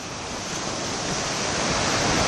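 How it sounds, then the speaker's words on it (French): Wind blowing through casuarina trees by the shore near Étang St Paul at dusk, a broad steady rushing roar that swells slightly, loud and close with no voices. "un peu de vent"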